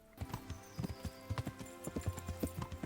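Horse hooves clip-clop at a quick, even trot in Kingdom Come: Deliverance, the close rhythmic steps sounding over a soft outdoor game ambience.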